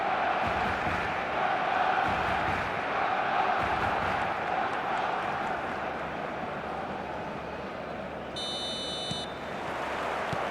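Simulated stadium crowd in the football video game eFootball roars steadily at match day before kickoff, a dense continuous wash of voices at full volume, with a brief electronic beep-like tone near the end.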